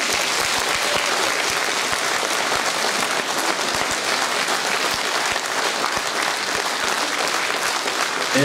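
Sustained applause from a concert audience in Kargopol after an ensemble performance, a thick even roar of many hands clapping throughout, with no speech over it.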